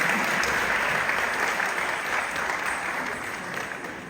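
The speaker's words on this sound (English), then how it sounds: "give this magnificent actor a massive round of applause for that demonstration" An audience applauds a Kathakali actor's demonstration with dense, steady clapping that fills the room throughout, with no speech over it.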